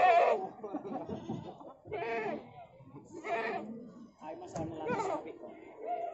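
Etawa goats bleating at a goat market, several loud, close, wavering bleats in a row, with people talking in the background.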